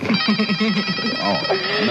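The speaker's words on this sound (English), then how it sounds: "phone call." A telephone rings in a scene from the film Nothing in Common, its electronic warble sounding in repeated bursts over people talking.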